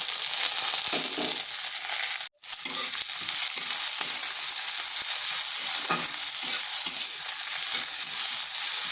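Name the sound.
onion frying in a pan with garlic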